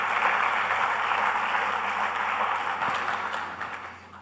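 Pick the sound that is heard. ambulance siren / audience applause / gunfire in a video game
audience applause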